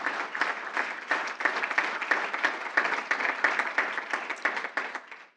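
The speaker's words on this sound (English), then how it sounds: "a hand of applause here" Steady applause from an audience at a school board meeting honoring graduating seniors, many hands clapping in a dense, even patter that holds for several seconds at moderate distance with no voices.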